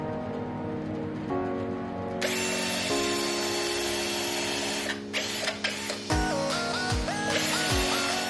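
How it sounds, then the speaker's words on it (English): Power drill boring pilot holes into pallet wood planks for a tabletop, a loud steady whirring motor that shifts pitch in stages, with several short bursts and stops near the end. "Again, I make pilot holes to prevent cracking the planks"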